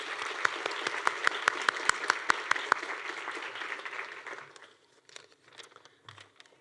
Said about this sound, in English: So let's give Dean a round of applause.